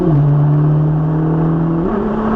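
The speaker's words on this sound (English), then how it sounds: "So full throttle right now." Race car on a track at full throttle during a high-performance driving session, a loud steady engine drone holding one pitch, then stepping up briefly near the end as it pulls harder.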